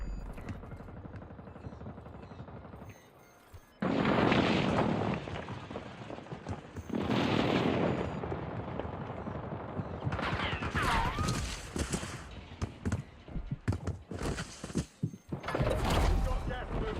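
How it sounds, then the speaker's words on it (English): Airstrike explosions and gunfire in a video game, with loud booming blasts in bursts and rattling shots between them, while voices talk over the action. "Hostile airstrike incoming."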